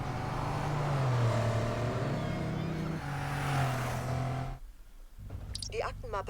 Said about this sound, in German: Und da kommt nochmal eins mit dem Auto.